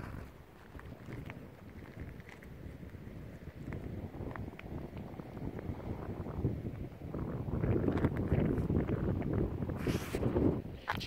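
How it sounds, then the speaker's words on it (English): Steady wind blowing across an exposed shoreline at Channel-Port aux Basques, Newfoundland, a continuous low rushing roar that swells louder toward the end, with no talk over it. "Little breeze of wind, nothing too serious, nothing we can't handle."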